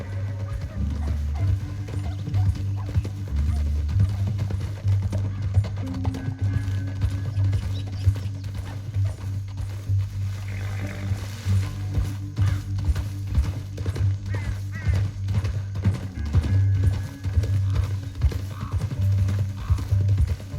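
Horse hooves clip-clopping in Red Dead Redemption 2, steady repeated hoofbeats under a mechanical rattling hum, with characters talking over the ride.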